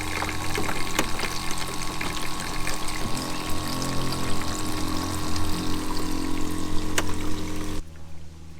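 Water from a garden hose pours steadily into a Jeep's radiator, a continuous close rushing flow with a faint hum underneath, stopping abruptly near the end.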